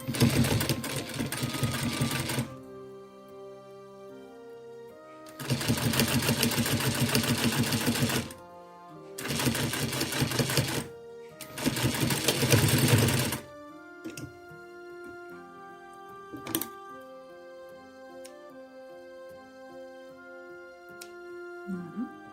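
A sewing machine stitches a washable fabric mask close to the edge in four loud, steady runs separated by pauses, followed by quieter clicks and handling noises at the end.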